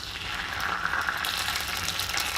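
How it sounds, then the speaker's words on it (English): Butter melting and heating in a hot pan gives a steady, close sizzle with a fine crackling hiss throughout, no voices. "So I already threw some butter in here, and it is heating up, or melting actually."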